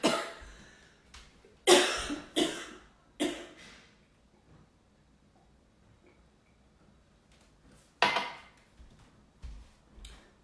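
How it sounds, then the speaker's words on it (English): A person with a summer cold coughs in several sharp, separate bursts, close and loud against a quiet room, with long gaps of near silence and a faint ticking between. "Little summer cough, cold thing happening"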